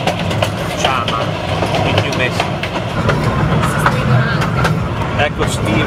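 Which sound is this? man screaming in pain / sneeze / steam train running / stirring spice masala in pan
steam train running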